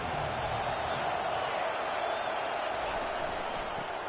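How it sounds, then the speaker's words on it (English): A stadium crowd at a college football game, Oklahoma against Virginia Tech, roars in a loud, steady, ear-splitting wall of cheering that holds without letup. "This crowd bringing an ear-splitting welcome to their visitors"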